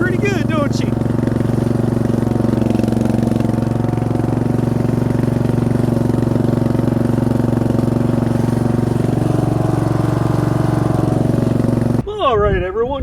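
A 2007 Craftsman rear-engine riding lawn mower engine runs steadily at a constant drone, loud and close, with a brief voice at the very end.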